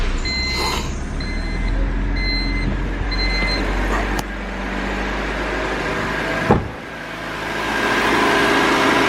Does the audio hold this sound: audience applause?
no